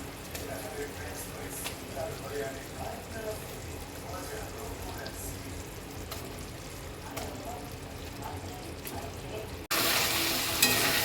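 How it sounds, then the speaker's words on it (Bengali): Fried paneer is stirred into a spiced masala cooked until the oil separates, a soft, continuous sizzle with faint scraping and stirring, quiet and close, before a louder hiss near the end. "এবার আমি ভাজা পনিরটা দিয়ে দিচ্ছি।"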